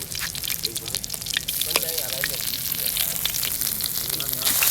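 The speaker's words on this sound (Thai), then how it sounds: "เสียงชูชาชูชามาเลย" Loud, steady sizzling of curry paste frying in hot oil in a wok, a dense crackle that swells louder toward the end, with occasional background voices.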